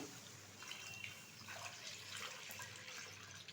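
Liquid milk, about one and a half kilos, pours steadily into a pot for making sweet cashew curd, a soft continuous splashing and trickling heard fairly quietly and close by without any voices.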